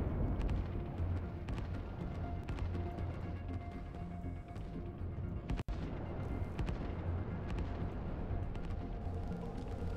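Rocket strikes and artillery in the war strategy game Line War, a dense rumble of distant explosions and gunfire that runs continuously, with a sharp crack midway.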